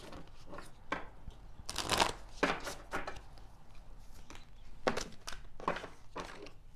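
A tarot card deck is shuffled in the hands, with soft riffling and several louder snapping bursts at irregular intervals, close and distinct.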